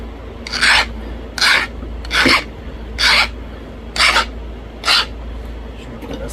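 A novaculite stone point being abraded to sharpen it during flintknapping, giving six evenly spaced, close rasping strokes about one per second, each a short gritty scrape against steady low background noise.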